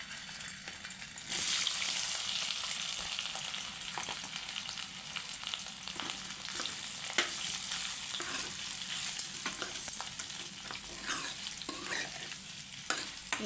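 Cut potatoes frying in oil for a potato fry, with a steady close hiss and crackle running throughout and occasional stirring clatter, no voices.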